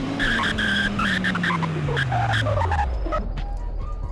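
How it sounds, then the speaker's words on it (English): A Dodge sports car brakes hard from high speed, its tires squealing in a sustained skid while the engine note sweeps steadily downward over about three seconds before settling to a low rumble. "Let's check the braking."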